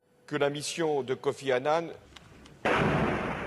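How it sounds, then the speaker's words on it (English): Explosions in the city of Homs, Syria: after a stretch of talk, a sudden loud broadband blast erupts and roars on as sustained rumbling noise. "it apparently shows explosions in Homs"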